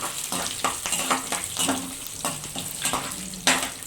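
Garlic sizzles in hot oil in a pan, with steady frying crackle and intermittent stirring scrapes, close and fairly loud.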